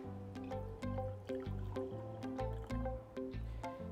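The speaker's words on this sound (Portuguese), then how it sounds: "Então eu vou colocar aqui nos 2 copos, ok? Esse permanganato com a água." Potassium permanganate solution poured into water in two cups, a series of soft liquid splashes and trickling pours at a regular pace, close and fairly quiet.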